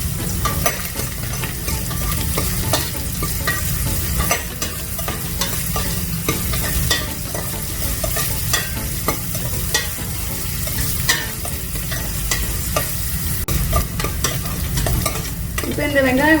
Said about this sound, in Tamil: இப்போ இந்த வெங்காயம் வதங்கிடுச்சு.